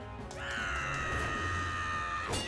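A sustained high scream from a character in the video game Metaphor: ReFantazio, rising sharply and holding steady for about two seconds before cutting off abruptly, loud and alone.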